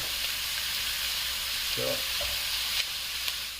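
Food for an open-faced fried biscuit chicken pot pie sizzles steadily in a frying pan as it is stirred, a close, constant hiss with a brief scrape of the utensil partway through.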